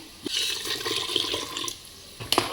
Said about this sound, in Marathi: तिच्यामध्ये थोडं पाणी घालून देते